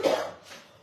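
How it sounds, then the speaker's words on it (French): A single short cough from an adult in a home kitchen, close and fairly loud, with a fainter trailing breath after it. "Je tousse toujours"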